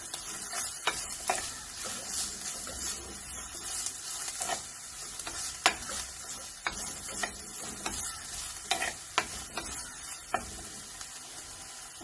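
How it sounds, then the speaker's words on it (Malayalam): Finely chopped ginger frying in hot oil for a sweet and spicy ginger curry, a steady close sizzle broken by frequent sharp ticks and scrapes of a spoon stirring against the pan, with no talking. "നമുക്ക് നന്നായി വറുത്തെടുക്കാം."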